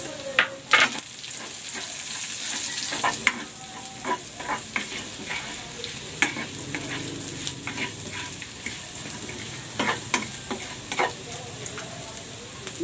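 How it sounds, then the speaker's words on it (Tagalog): Garlic and onion sautéing in a pan for pancit, with a continuous close sizzle and frequent sharp scraping and stirring knocks scattered throughout. No one speaks. "Magigisa na ako ng bawang. At ng sibuyas."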